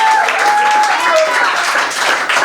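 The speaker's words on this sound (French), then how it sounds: "On applaudit." Audience applause at a live French game show with a studio crowd, a dense steady wash of clapping that holds throughout, with voices and a few tonal sounds mixed in.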